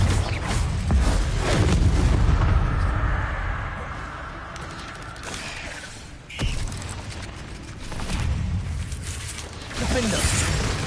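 Confringo fiery blast spells in the Hogwarts Legacy video game, loud rumbling booms and whooshing bursts in a dense combat mix that swells, dips and returns in several waves.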